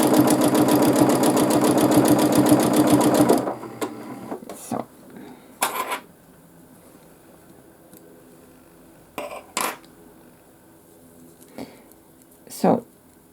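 A sewing machine does free-motion quilting with a roller foot, stitching in a fast, steady mechanical whir for about three seconds before stopping, followed by faint, scattered handling sounds.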